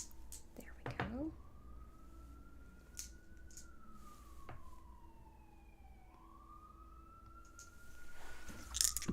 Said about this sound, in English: Apologies if you hear the sirens in the background.